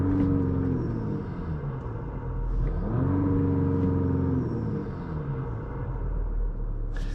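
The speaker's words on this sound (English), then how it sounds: "that's the baffle delete you're slightly hearing" A Jeep Grand Cherokee EcoDiesel prerunner with a baffle delete, heard from inside the cab, gives a steady low diesel rumble that rises and falls gently as the engine revs, continuous with no talking.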